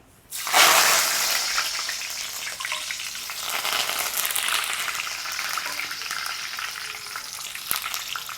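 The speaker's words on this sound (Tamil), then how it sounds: "கருவேப்பிலையும் எங்களுக்கு கலகலண்டு சத்தம் கேட்க நாங்கள் எடுத்துடுவோம்." Curry leaves hit hot oil with a sudden loud sizzle, then keep crackling and spitting steadily as they fry for a prawn sambal, the hiss slowly easing, with no voices.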